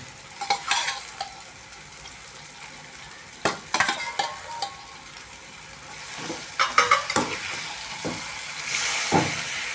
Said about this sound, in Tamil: வதங்கிய நிலையில் இருக்கும் வெங்காயத்துடன் அலசிய சிக்கனை அதில் போட்டுக்கொள்ளும்